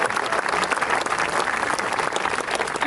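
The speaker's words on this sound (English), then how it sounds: "so I'll give them a round of applause" A crowd at the Tunnel to Towers 'Let Us Do Good Village' event applauds donors, a steady, dense wash of many hands clapping that fills the whole stretch without any talk.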